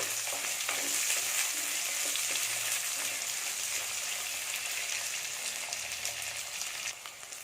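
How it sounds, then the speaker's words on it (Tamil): Two large, finely chopped onions sauté in oil in a pan, giving a steady, loud sizzle with occasional stirring scrapes that eases slightly toward the end. "இது சேர்த்து நல்லா வதக்கி"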